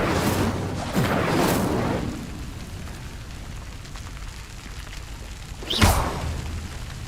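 The Incendio fire spell is cast in Hogwarts Legacy, bringing whooshing bursts of flame and a muffled boom. A sharp rushing flare near the end stands out over a low, crackling, rain-like background.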